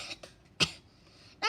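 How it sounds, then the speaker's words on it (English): Cartoon cough from the bear doctor in Peppa Pig: a few short, sharp bursts spaced apart, close and clear, with no talking over them. "Dr. Brown Bear has caught Pedro's cough too"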